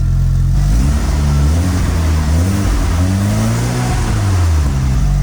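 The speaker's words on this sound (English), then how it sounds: "So as you can maybe hear, the engine is louder than the exhaust." A Mitsubishi Lancer Evolution's engine idles, warmed up, then revs up and down in a few smooth swells, loud and close, with a rumbling exhaust tone; engine noise louder than the exhaust.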